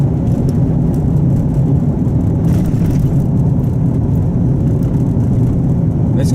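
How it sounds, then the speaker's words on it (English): A car drives steadily through a tunnel on the Colonial Parkway, with a continuous loud, close engine and road rumble that swells slightly midway and holds with no talk. "I guess we'll drive through the tunnel."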